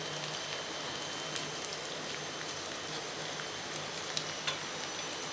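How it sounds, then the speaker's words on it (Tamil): Onions and green chillies sautéing in oil, a steady close sizzling crackle with occasional small pops, continuous throughout with no talking. "இதெல்லாம் இப்போ நல்லா நம்ம ஆயிலே நல்லா வதக்கணும்"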